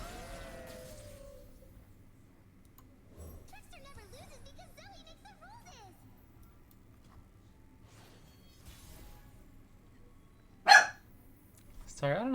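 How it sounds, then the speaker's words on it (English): A pet dog barks indoors in a few short, scattered bursts, with one sharp loud bark near the end, while someone talks quietly over game sounds. "Sorry, I don't know what she's barking at."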